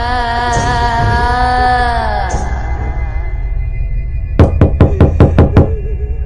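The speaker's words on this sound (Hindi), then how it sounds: "गुल्ली भी पुराने घर के बाहर आकर दरवाजे को पीटने लगता है" A cartoon character pounds on the door of an old house: six quick, loud knocks in a row near the end, after a stretch of sustained tonal cartoon music.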